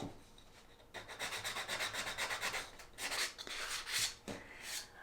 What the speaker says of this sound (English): we've got our 3 eggs all sanded